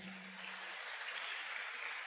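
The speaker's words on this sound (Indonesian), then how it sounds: "Ya tepuk tangan buat Tiansi ya." Audience at a sales presentation applauding, a steady wash of clapping heard somewhat faintly and without voices.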